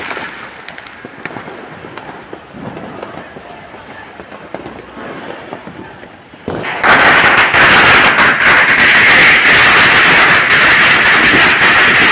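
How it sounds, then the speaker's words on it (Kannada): Firecrackers bursting in a street celebration of an RCB cricket win, starting as scattered distant pops and then erupting into a loud, dense, continuous crackling barrage that fills the air. "ಎಷ್ಟು ಜೋರಾಗಿ ಪಟಾಕಿ ಹೊಡ್ತಾಯಿದ್ರು"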